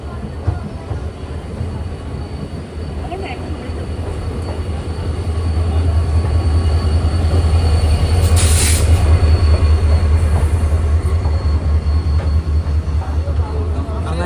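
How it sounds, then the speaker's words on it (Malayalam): The Kanchanjunga Express rumbles into Agartala station, its rolling clatter growing louder and closer, with a brief high metallic wheel squeal midway. "ട്രെയിൻ ഇപ്പോൾ ഇതാ ത്രിപുരയുടെ ക്യാപിറ്റലായ അഗർത്തലയിലേക്ക് എത്തുകയാണ്"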